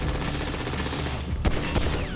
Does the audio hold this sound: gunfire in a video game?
yes